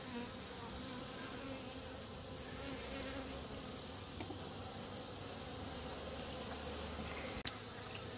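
Honey bees buzz around an opened backyard hive, a steady, quiet drone of many wings near at hand that holds for the whole stretch, with one brief click near the end.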